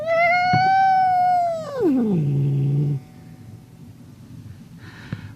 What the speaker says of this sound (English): My sister's cat really doesn't like me. His name is Max. And as you can hear, he's ticked.